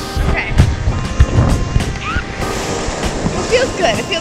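Atlantic Ocean surf breaks on a cold Daytona Beach, a continuous wash of waves mixed with wind buffeting the microphone and people talking nearby.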